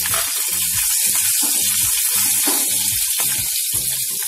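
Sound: garlic, green chili and ginger sizzling in hot oil

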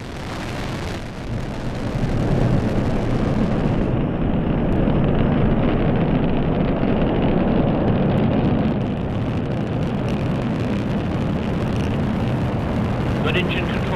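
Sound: Delta IV Heavy rocket liftoff carrying Orion space capsule

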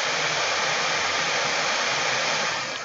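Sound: MSI GT73VR laptop fans at full Cooler Boost speed

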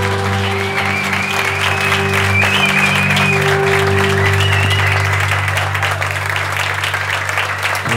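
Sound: audience applause

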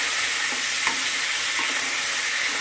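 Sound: marinated chicken pieces frying in oil

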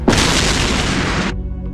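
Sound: bomb explosion in the anime Btooom

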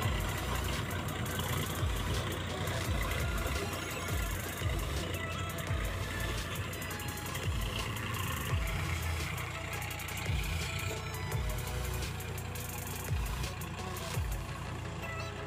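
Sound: tractor engine ploughing a paddy field

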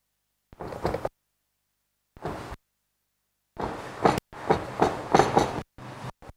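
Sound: chopping mushroom

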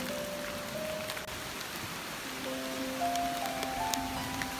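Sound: heavy rain in a forest

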